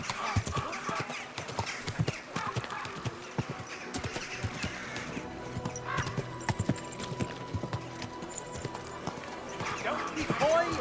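Horse hooves clip-clop in a steady walking rhythm on a town street in the video game Kingdom Come: Deliverance 2, close and clear, with voices talking over them and faint birdsong around.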